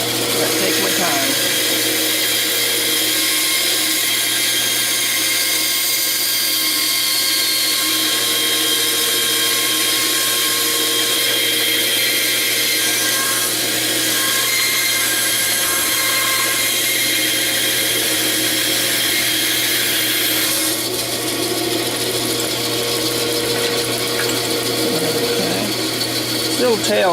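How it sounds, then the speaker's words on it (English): A power tool slowly works through one-and-a-half-inch-thick hardwood, its steady, loud whine and grind running unbroken for nearly half a minute with little change in pitch. "One and a half inch thick hardwood cuts quite slowly."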